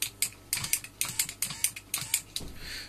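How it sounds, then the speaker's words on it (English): Vauxhall Corsa electric window motors are bench tested and give off a quick run of sharp mechanical clicks and short ratcheting bursts, close and fairly steady in rhythm, with no speech. "if I push the switch they move"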